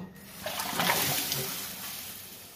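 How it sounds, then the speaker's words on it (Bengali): Water pours into a kadai for boiling cut elephant foot yam and potatoes, a short splashing gush that swells and then tapers off. "কড়াইয়ে জল দিচ্ছি"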